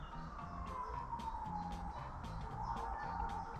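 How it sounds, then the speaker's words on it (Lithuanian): A police car siren wails far away, a thin wavering tone barely rising over a dull, rumbling background with faint periodic low thumps. "Girdis policija kažkur cypauja,"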